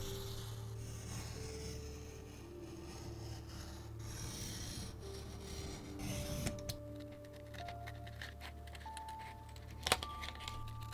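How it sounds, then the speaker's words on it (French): Scissors cut out a freshly printed paper pattern for a leather camera wrist strap, a continuous soft rasping and rustling of paper, close and low in level over a steady electrical hum, with a small sharp click near the end. "je vais commencer par découper le patron que je viens d'imprimer"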